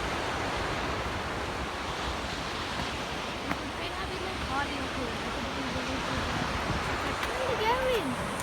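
Steady surf washes continuously onto a beach, a broad even roar with faint wind, with no distinct talking.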